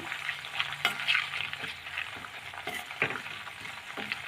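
About ten hibiscus leaves crackling and sizzling in hot coconut oil, a quiet continuous fry broken by a few sharp clicks of stirring.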